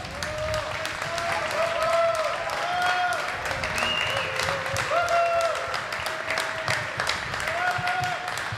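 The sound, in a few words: audience applause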